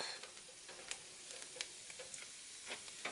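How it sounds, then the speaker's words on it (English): Garlic scapes sautéing with whole bay leaves and whole peppercorns give a steady, close pan sizzle with scattered light pops and ticks throughout, no voices. "first step in this recipe is to saute the garlic scapes"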